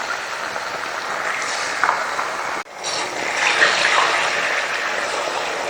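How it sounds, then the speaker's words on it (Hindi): Chicken pieces frying in an iron karahi give off a steady, dense sizzle, close and fairly loud, with a brief dip partway through before the crackle picks up again. "सबसे पहले हमने चिकन को डाल के इसको पहले अच्छी तरह भूनना है।"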